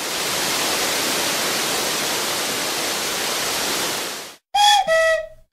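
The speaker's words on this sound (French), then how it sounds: "Ce bruit très fort, c'est celui d'une cascade." A loud, steady roar of water falling from a great height fills the first four seconds, then cuts off abruptly into a few brief whistling tones.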